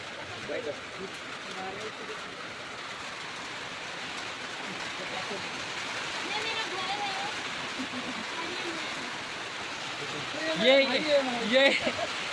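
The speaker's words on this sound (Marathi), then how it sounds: "भरपूर पाऊस चालू आहे." Steady, heavy rain roars as a dense hiss throughout, with voices rising briefly near the end.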